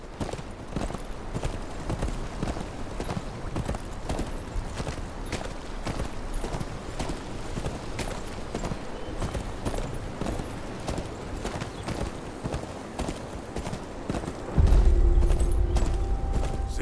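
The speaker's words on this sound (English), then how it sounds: "Where's your horse? Mount up and let's go." Horse hooves clop in a rapid, steady riding rhythm in Game of Thrones: Kingsroad, continuous throughout, with a deep low rumble swelling in near the end.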